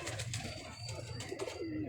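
Domestic pigeons coo softly in a low, steady murmur, several birds overlapping continuously, with faint background chirps and no speech.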